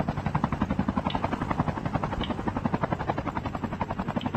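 A helicopter in Call of Duty Mobile thuds close by, its rapid rotor pulses beating steadily and loudly from start to finish.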